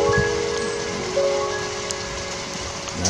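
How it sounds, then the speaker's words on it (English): Steady rain falling just after a brief hailstorm of BB-sized ice in San Diego, a constant broadband wash with a few sharper drop hits, fairly close and even throughout, with no talking. "Now it's just raining again."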